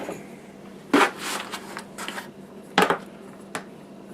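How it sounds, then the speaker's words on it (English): A lid is fitted onto a wine-making container: two sharp, close clunks with lighter rattling and clicking between them, with no talking. "Put the lid on."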